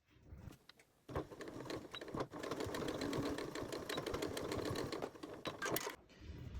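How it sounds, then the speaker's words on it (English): A sewing machine stitches together the fabric ends of a bow napkin ring, starting after a brief pause and running in a steady rapid whir of needle strokes for several seconds before stopping. "Now we can form our ring by placing the two ends together and stitching about 1/4 of an inch away from the edge."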